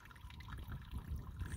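A small stream of water runs steadily in the green countryside of inner Paraíba, a soft continuous trickle and gurgle heard close by with no voices.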